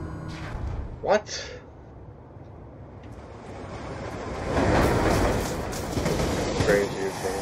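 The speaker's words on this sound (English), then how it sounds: "Oh crap, the train's coming towards." In the Black Ops 2 video game, a train approaches with a growing rumbling roar that swells to a loud, sustained rush. Players talk over it.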